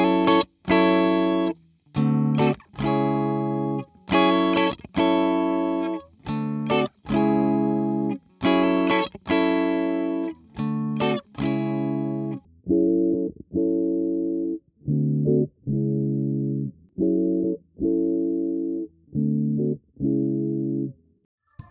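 Clean-tone electric guitar amplifier captured by an Electro-Voice PL35 instrument microphone, playing a steady run of strummed chords with short gaps between them, full and bright at first, then continuing darker and duller with the highs rolled off, with no talking.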